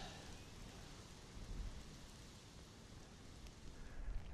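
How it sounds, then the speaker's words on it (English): Rain falling across a meadow of heath spotted orchids, a faint broadband hiss of drops on grass and vegetation with occasional louder patters, steady throughout and with no voices. "Here comes the rain again."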